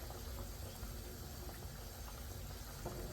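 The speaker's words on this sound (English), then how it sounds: "the water is bubbling up now" Water bubbling at a steady boil in a pan while making aloo nihari potato curry, a continuous low rumbling simmer with no talk over it.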